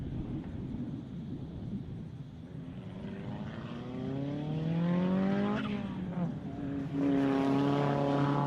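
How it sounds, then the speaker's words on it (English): A Datsun 1600 race car climbs a hillclimb course with its engine note rising and falling. It comes in hot to a chicane, sweeping closer and louder and then shifting pitch as it passes by, against steady outdoor background noise. "Using all the road there in the Datsun 1600. Coming in hot to the chicane."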